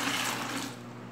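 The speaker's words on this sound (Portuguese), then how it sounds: "Estou colocando 1 litro d'água." Water splashes and rushes steadily as a litre is poured into a homemade degreaser mixture made from blue bar soap, a broad continuous gush that thins out toward the end.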